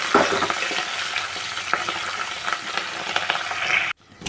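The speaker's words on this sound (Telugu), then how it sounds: "పోపు కాగింది తాలింపు వేసేసుకున్నాం" A tempering of spices, curry leaves and onion sizzles and crackles steadily in hot oil, a loud continuous frying hiss with faint stirring, cutting off abruptly near the end.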